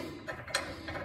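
Short ratcheting clicks as bolts are tightened on a motorcycle hitch-mount carrier, a few quick mechanical ticks close by with a brief louder click midway.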